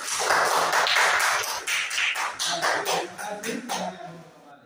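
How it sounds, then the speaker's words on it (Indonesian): Students in an elementary school classroom clap for group 3 in a loud, close, rhythmic burst of claps, groups of beats set off by short pauses that trail off toward the end. "kita berikan tepuk tangan untuk kelompok 3"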